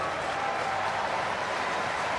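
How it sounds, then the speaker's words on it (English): Rugby league fans applauding in a stadium at a World Cup semi-final between Australia and New Zealand, a broad, even wash of distant crowd clapping and noise. "And the applause from the fans."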